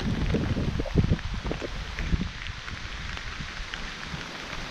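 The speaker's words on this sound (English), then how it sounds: "after a little 5 minute rain delay" Steady rain patters on surfaces outdoors during a canoe trip in the Boundary Waters wilderness, a dense continuous hiss of drops with some wind noise, strongest at first and then settling to an even wash, with no voices.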